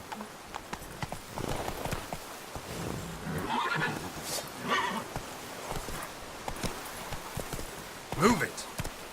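Horse Roach in the Witcher 3 video game, hooves clopping in an uneven gait with a loud neigh near the end, under a voice urging the horse on.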